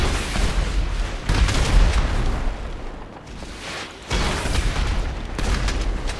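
Heavy gunfire and explosions in a GTA 5 Online firefight, with dense overlapping bursts and booms rolling continuously and loud, surging again in the second half.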